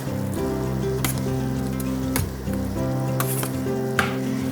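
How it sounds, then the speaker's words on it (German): Spice mix being stirred into chopped tinned tomatoes for a cauliflower pizza sauce, a wet squishing and scraping with a few sharp clinks of a spoon on the bowl, steady and close over a faint background hum. "Dann können wir das schon mal hier verrühren."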